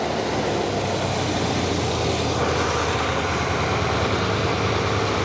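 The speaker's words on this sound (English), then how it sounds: "I'll rev it up a little bit." A 1979 Camaro V8 with a Quadrajet carburetor, long unused barn find, running with a loud, steady, dense engine roar close by, holding a sustained raised pitch without voices.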